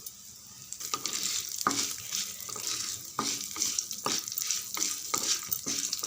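Dried red chillies and halved coconut sauté in a pan, a steady hiss of frying broken by several sharp scrapes and stirs of a spoon at irregular intervals, close and moderately loud with no talking.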